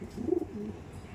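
Low, rolling coos come from a Madrasi pigeon kept in a loft, a brief throaty burst in the first half, then quieter murmuring.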